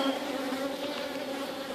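Honey bees swarm around a large multi-box backyard megahive opened for inspection, making a dense, steady buzzing hum that stays loud and close throughout without a break.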